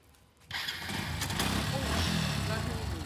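A motorcycle fitted with a GPS unit starts up: after a quiet moment the engine catches abruptly, then settles into a steady idle hum with brief rattles, fairly close.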